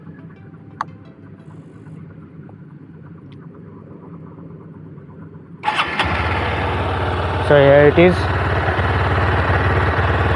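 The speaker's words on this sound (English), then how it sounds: "let me turn on the key and show you how the bike sounds" Honda Hornet 2.0 motorcycle engine cranks and fires at about the midpoint, then settles into a steady, bassy idle up close, with a brief louder surge near the end; someone speaks briefly before the start.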